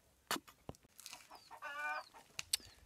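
Chickens cluck and squawk nearby at a small hut, in short, irregular bursts, with one drawn-out cackle in the middle and sharp pecking clicks between calls.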